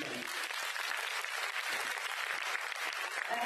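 Sustained audience applause at a Chandigarh music concert, with dense steady clapping from a crowd throughout.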